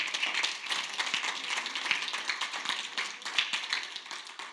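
A church congregation claps together in a continuous run of many hands, moderately loud, with no talking over it.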